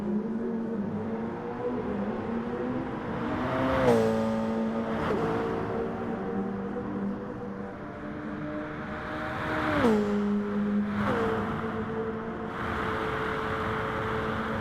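GR1 race cars scream around Fuji in Gran Turismo Sport, engines holding a steady high whine with two sharp downshifts as the revs drop and climb again, close and continuous.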